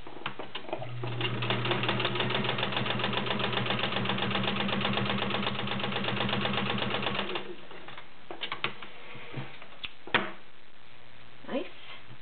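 A Kenmore model 1601 sewing machine runs steadily through about six layers of Levi's denim with a size 16 needle, a rapid even chatter lasting several seconds, then stopping for scattered clicks and handling noises.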